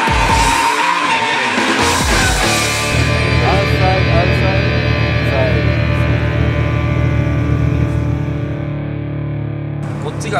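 A drift car enters a corner in second gear under handbrake at Ebisu circuit's south course, engine roaring loud and distorted with tire squeal and rising revs throughout, a voice occasionally audible over it.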